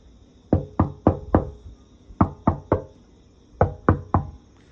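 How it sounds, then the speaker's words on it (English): Knuckle knocks on solid old-growth cedar furniture, three quick groups of three hollow, woody raps that ring briefly, heard close and alone against a quiet room. "listen to the knock"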